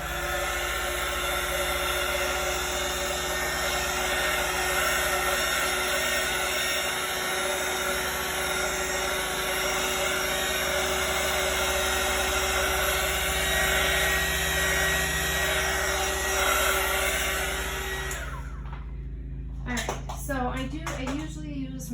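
A heat embossing gun blows steadily over poured acrylic paint, a loud continuous whirring hiss with a tonal hum that runs for most of the stretch before stopping, leaving a few brief clatters.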